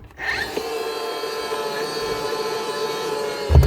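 The motor of a DeWalt DCN660 nail gun starts up with a brief rising whir, then runs as a steady, close electronic whine for several seconds, ending with a soft knock.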